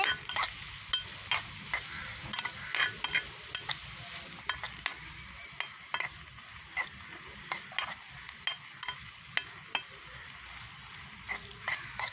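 Food sizzles gently in a tiny miniature cooking pan while being sautéed and stirred, with soft frying hiss under repeated quick scraping and tapping strokes at close range, no talking.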